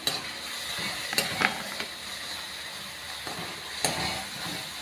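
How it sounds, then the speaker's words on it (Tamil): Chopped tomatoes sautéing with already-softened onions in a home pan, a soft continuous sizzle with occasional light spatula clicks and scrapes against the metal. "இப்போ நம்மளோட தக்காளி ஆட் பண்ணி நல்லா வதங்கிக்கலாம்"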